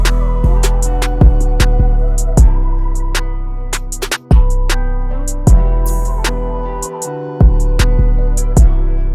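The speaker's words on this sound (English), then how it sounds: "This is going to be a harder clip" Beat in FL Studio with hard clipping applied, a loud dense loop of booming 808 bass and kicks with sharp snare and hi-hat hits, running steadily with brief drops in the low end, no voices.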